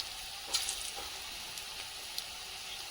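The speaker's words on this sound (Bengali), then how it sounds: "কড়াইতে যতগুলো ধরে ততগুলো ভাজবো, আর যদি বাকি থেকে যায় পরের বারে আরেকবারে ভেজে নেব" Small round balls sizzle in hot oil in a wok, a steady faint crackle with a few brief pops, heard alone without talk.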